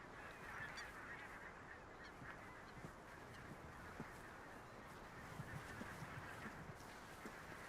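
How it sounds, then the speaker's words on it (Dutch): Black-tailed godwits calling over a wet meadow flooded in spring, a dense far-off chorus of repeated bird calls under steady wind and ambient noise, with no voices. "Hoor je ze? Grutten, grutten, grutten."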